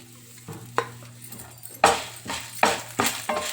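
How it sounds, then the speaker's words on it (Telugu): Cumin and dried chilies are fried in oil in a pan and stirred, with a steady soft sizzle under a series of loud, rhythmic scraping strokes of the spoon, close by. "ఇవన్నీ దూరగా వేయించుకోవాలి."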